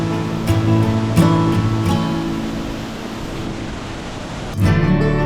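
A waterfall at Padsali dam roars steadily at close range, its broad splashing rush filling the scene with constant spray noise.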